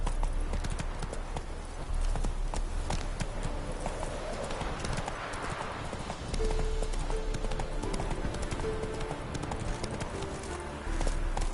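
Horse hooves galloping in The Witcher 3 video game, a fast rhythmic clip-clop running steadily throughout, fairly close, with game music and ambience underneath.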